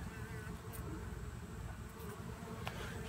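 A small bee swarm clustered on a mailbox hums in a dense, steady buzz, close and faint, with individual bees zipping past now and then.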